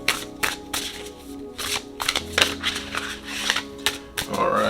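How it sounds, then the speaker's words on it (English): Tarot cards being shuffled by hand, a run of quick papery riffles and soft slaps coming in uneven bursts, close up and fairly quiet, with no talking over them. "Shuffle, shuffle, shuffle."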